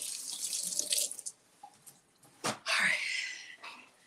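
Tap water splashes into a kitchen sink while food is washed, coming in short gushing bursts separated by quiet gaps and small knocks, fairly close but soft.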